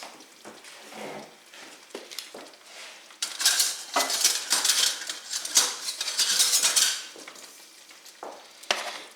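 Browned Salisbury steaks go back into thickening gravy in a pan, with metal utensil scrapes and clinks over a bubbling sizzle, irregular bursts growing busier midway, close and with no talking.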